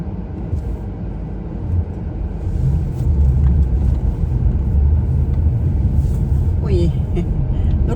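A snow transport truck rolls past, its deep engine rumble swelling midway and holding steady and close, with a voice talking faintly in the background.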